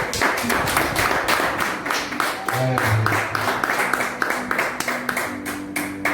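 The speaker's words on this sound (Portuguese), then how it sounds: "Pode sentar, aplaudir o Senhor." A church congregation claps in a steady, rhythmic beat during a worship service, the repeated claps loud and close. Voices sing or call out over the clapping.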